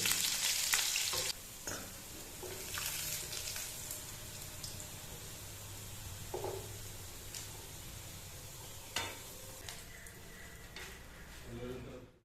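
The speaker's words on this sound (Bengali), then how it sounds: "আলুটাকে একটু ভেজে নিন মাংস করার আগে" Potatoes frying in oil before going into a shahi biryani chicken dish: steady crackling sizzle with occasional stirring clatter, loudest at the start and then holding at a moderate level.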